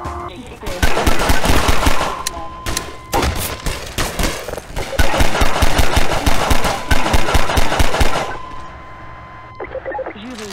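Rapid bursts of automatic gunfire in the Half-Life 2 VR mod shooter, loud and close, in dense stuttering volleys with brief pauses between them.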